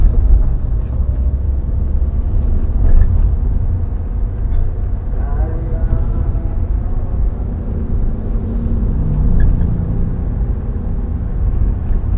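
A Toyota Veloz driven in third gear through dense traffic at dusk produces a low, steady engine and road drone inside the cabin, with a voice briefly heard over it.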